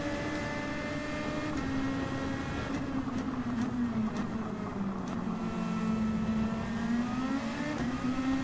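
Race car engines in Gran Turismo 7 drone in a continuous whine that slowly dips and rises in pitch as cars accelerate through traffic, a steady mid-level roar with no talking.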